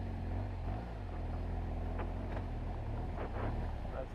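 BMW dual-sport motorcycle, an F800GS or HP2, riding through a small sand pit, its engine a low, steady rumble with wind buffeting the microphone and a few faint rattles.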